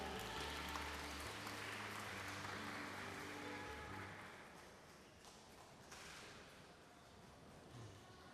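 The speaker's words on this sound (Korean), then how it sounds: "환송의 박수 한번 더 부탁드리겠습니다" Applause from an audience at a residents' information meeting in Bulgwang-dong, a steady dense patter of clapping that thins and fades after a few seconds into scattered claps and room noise.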